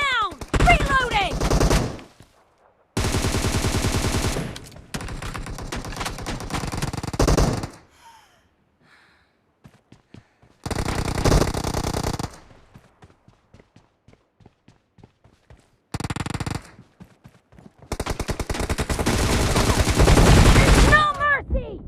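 Gunfire in an online shooter video game comes in loud, dense automatic bursts, separated by short silences and quieter stretches with a few scattered shots.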